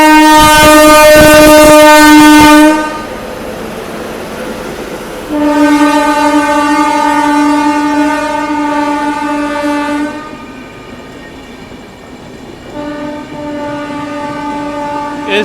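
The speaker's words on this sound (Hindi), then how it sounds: "अभी एक और ओवरटेक होने के पूरे चांसेस है। आनंद विहार जयनगर गरीब रथ" The Anand Vihar–Jaynagar Garib Rath express overtakes a halted train with long loud horn blasts, then several more horn calls over a steady rolling rumble close by.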